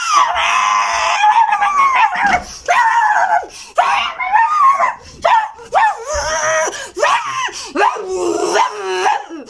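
A person imitates a mad dog with fleas, voicing loud barks, yips and growls in quick, uneven bursts, close and strained, with no real animal present.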